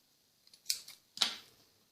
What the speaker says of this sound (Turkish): Ve ipimi iyice sıkıştırıp diğer ipi kesiyorum.